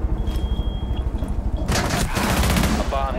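Rapid automatic gunfire in the tactical shooter Rainbow Six Siege, a bomb-mode match on the Border map, bursting loudly in the second half after a brief tone and low rumble, with a voice mixed in.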